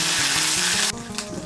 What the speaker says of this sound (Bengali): আদা বাটাটাকে মিশিয়ে নেব তেলের সঙ্গে।